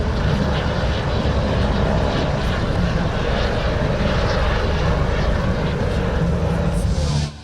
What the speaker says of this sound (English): Here, we see the start of the display of Jurgis Kairis with his Sukhoi Su-31